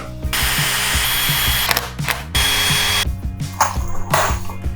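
Power drill driving 1 5/8 inch deck screws into wood, several loud close bursts of whirring motor with brief pauses between each screw, ending in a clattering ratchet-like stop.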